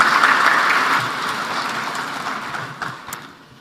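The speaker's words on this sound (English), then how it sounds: "let's give him another round of applause." Audience applause at an Africa heads-of-state energy summit in Tanzania, a broad steady crowd clapping that gradually fades over a few seconds as a guest walks to the stage.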